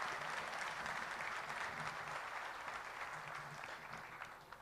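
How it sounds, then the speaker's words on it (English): Audience applause in a large hall at a business summit in Bangladesh, sustained broad clapping that holds steady and then slowly tapers off toward the end. "Could we please have a round of applause for them?"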